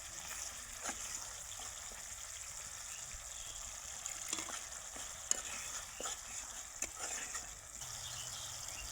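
Mustard-paste masala fries in a pan while being stirred, a faint, steady sizzle with soft scraping strokes and occasional light taps of the spoon.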